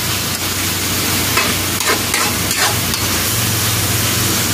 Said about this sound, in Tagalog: nagisa na natin ng maayos yung ating mga ricado